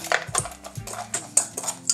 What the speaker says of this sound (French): On va remuer un tout petit peu pour commencer à faire fondre le chocolat.